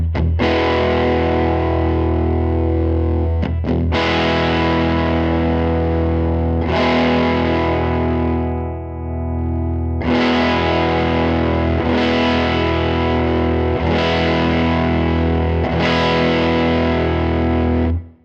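Electric guitar with heavy overdrive from a Grammatico-style drive model on a Line 6 Helix, played on the bridge pickup, plays sustained distorted chords, each ringing out before the next strike, with a brief dip near the middle.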